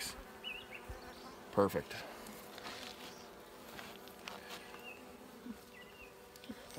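Bees buzz around an open top bar hive during an inspection, a faint, steady hum with scattered louder passes of individual insects near the microphone, while a person says a single word.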